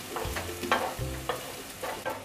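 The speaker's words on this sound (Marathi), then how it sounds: "आता यामध्ये आपण क्रश केलेला आलं लसूण घालूया।" Crushed ginger and garlic sizzle and crackle in hot oil in a pan for a spring roll filling, with close, fairly loud stirring scrapes and bursts of frying through the short clip.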